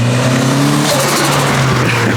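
A turbocharged SR20DET engine revs hard on a dyno, a loud droning exhaust note rising in pitch, steady and close throughout.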